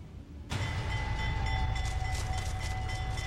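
A train in the Laredo train yard rumbles in suddenly with deep low rolling noise and steady high whining tones, continuous and fairly close.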